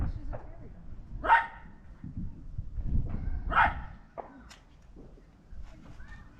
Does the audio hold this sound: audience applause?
no